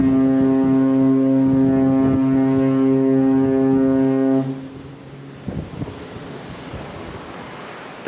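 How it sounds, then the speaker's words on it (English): Carnival Spirit cruise ship foghorn blasting in fog at sea: one long, loud, deep tonal blast that holds for about four seconds, then cuts off, leaving wind and surf noise behind. "just let off the foghorn because you cannot see a thing out there"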